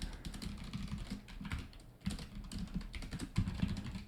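Rapid keystrokes on a computer keyboard as a formula is entered into a spreadsheet, a close, steady clatter of soft clicks with brief pauses, no voices.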